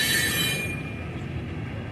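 A mixed freight train with boxcars rolls past close by, its wheels squealing high and loud before easing into a steady rumbling roar.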